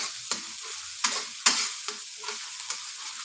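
An egg, cracked in whole to fry sunny-side up for nasi goreng and mie goreng, sizzles and crackles in a hot pan, with several sharp spatter pops over a steady hiss, close and alone.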